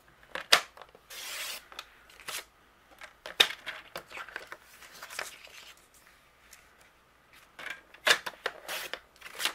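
Scissors snipping through paper to cut out a printed hello sentiment for card making, a series of short, close, crisp cuts with quiet pauses and rustling between them.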